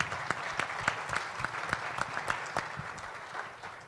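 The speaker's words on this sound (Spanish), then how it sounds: "Un aplauso," Applause at a national cybersecurity strategy forum, a fairly faint, even spread of many hands clapping with a few sharper claps punctuating it, fading slightly at the end.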